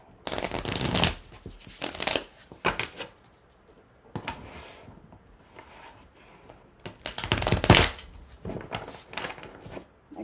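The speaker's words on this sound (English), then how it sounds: "Let's give these cards a really good shuffle though, just to make sure." A deck of tarot cards is shuffled several times, crisp riffling bursts separated by short pauses, close and clear with no talking.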